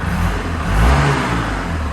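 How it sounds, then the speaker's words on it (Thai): A grey 2019 Suzuki Burgman 650 ABS scooter's engine runs close up, a steady mid-pitched hum that swells briefly as it revs, then settles back, with no talking. "เครื่องยนต์"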